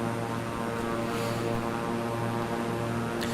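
Steady drone of an airplane cabin, a continuous engine hum with layered tonal bands holding at an even level throughout, with no voices over it.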